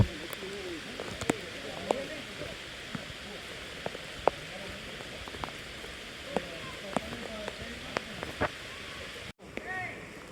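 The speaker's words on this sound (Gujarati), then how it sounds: "2 સેકન્ડમાં વરસાદ પણ ચાલુ થઈ ગયો." Rain falling in a jungle beside a river on a waterfall trek, a steady soft patter of drops with scattered sharper ticks throughout, heard close and fairly quiet.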